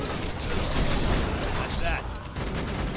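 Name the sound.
turret deploying and firing in Borderlands 2 video game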